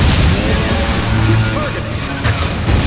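Missile fired by Samus at a frozen spot on a creature in Metroid: Other M on Wii, a loud crashing impact with dense rumbling noise under the game's battle ambience.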